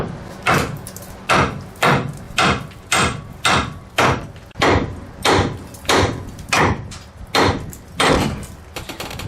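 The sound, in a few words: hammering to separate a ball joint on a Chevy Silverado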